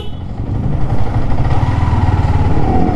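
A Yamaha R15 V3 motorcycle engine runs steadily at close range, a low throbbing rumble that holds constant throughout with no voices.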